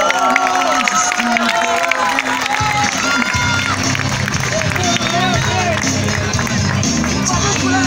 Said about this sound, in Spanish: Fuerte aplauso entonces para estos atletas.